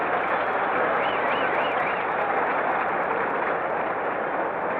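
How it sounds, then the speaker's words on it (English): A crowd at a 1956 World Series game in Brooklyn applauds, heard as a dense, continuous roar of clapping and cheering from an old television broadcast that fills the whole stretch without a break. "the crowd, of course, shows its appreciation."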